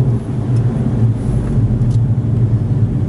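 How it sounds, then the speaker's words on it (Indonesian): Steady, loud tire roar from a 2022 VW Golf GTI driving over a very rough road surface, a continuous low rumble heard from inside the cabin. "You can hear the tire roar."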